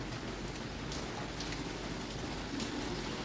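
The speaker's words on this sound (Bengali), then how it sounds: "বাইরে ওয়েদার দেখবেন, তুমুল বৃষ্টি পড়ছে" Heavy rain pours steadily, a dense, even hiss of drops with no breaks, fairly soft and distant.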